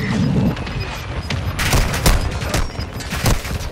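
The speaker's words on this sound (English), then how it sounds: "Mortar strike on the way." Mortar strike explosions in Call of Duty: Modern Warfare II, several loud booming blasts landing in quick irregular succession over a rumbling battlefield din, with no talk.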